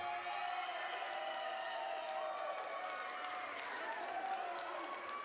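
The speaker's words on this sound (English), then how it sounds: "Round of applause if you think it was Bunny Love." A wrestling crowd claps and cheers in a steady, sustained roar of applause that fills the whole stretch at an even level, with scattered whoops.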